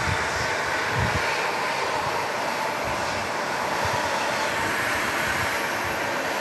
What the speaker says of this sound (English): is this heavy aircraft, wide-body aircraft, is used for cargo and for passengers.